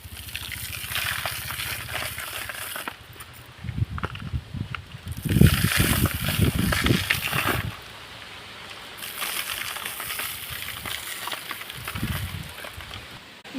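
Potting soil poured into a cup for planting seeds, heard as bursts of granular rushing and pattering, fairly close, alternating with quieter gaps, with no talk.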